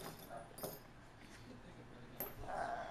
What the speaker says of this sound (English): Bart, Bo, whichever one he was out there barking.